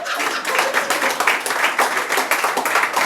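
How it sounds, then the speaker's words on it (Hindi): An audience at a live talk event in Aligarh gives a burst of clapping, dense and close, running steadily for a few seconds. "अब इनके लिए एक बार जोरदार तालियां।"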